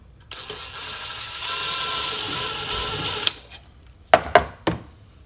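Hand tool tightening a clamp on a cone air intake, starting with a sustained whirring run and ending in a few sharp ratcheting clicks close by, with no talk.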